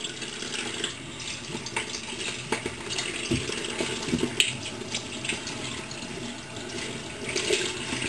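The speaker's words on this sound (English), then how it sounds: "So the next thing is turn on the warm water." Warm water runs from a bathroom tap in a steady, moderate hiss with faint splashing, close by and continuous, no voices.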